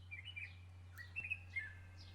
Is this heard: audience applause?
no